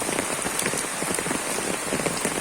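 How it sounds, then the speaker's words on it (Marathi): A brief stretch of heavy rain: a thick, constant hiss of drops pattering close by, with no voices. "पडतोय ना पाऊस"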